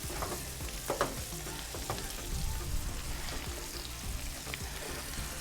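Lamb chops sear in butter on a hot Pit Boss griddle outdoors, giving a steady, loud sizzle with a few sharp crackles and spatter pops, close and continuous with no talk.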